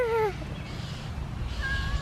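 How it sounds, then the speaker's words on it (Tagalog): A mother cat gives a short falling meow, then a higher, thinner meow a moment later, both fairly close over steady low outdoor rumble. "The Mama Cat"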